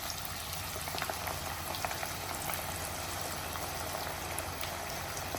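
Onion pakoda pieces frying in hot oil, giving a dense, steady crackle and sizzle with scattered pops that carries on evenly throughout, close up and with no talk.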